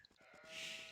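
Sheep bleating in the Age of Empires II real-time strategy game, a single short in-game bleat rising after a few soft clicks, clear and fairly faint with no talk over it.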